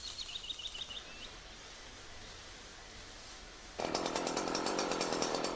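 A bird chirps briefly in a quiet outdoor setting, then a chainsaw roars to life and runs steadily and loudly.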